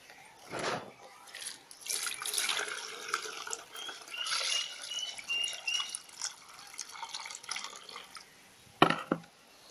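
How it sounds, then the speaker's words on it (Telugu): Soaked mixture being lifted and strained through a filter, with liquid dripping and trickling in uneven bursts for several seconds, a small splash near the end, close and fairly quiet. "దీన్ని ఇట్లా ఎత్తి వడగట్టుకోవాల, ఫిల్టర్ చేసుకోవాల."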